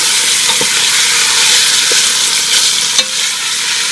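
Beef for carne guisada browns in a hot pan, a loud, dense, steady sizzle up close, with a few small pops and a faint tap near the end.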